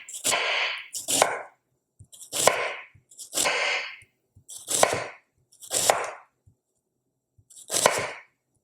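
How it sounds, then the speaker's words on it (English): Knife thinly slicing half an onion on a cutting board: seven crisp, evenly spaced chopping strokes about a second apart, close and clear, with no talking. "just thinly slice the onion"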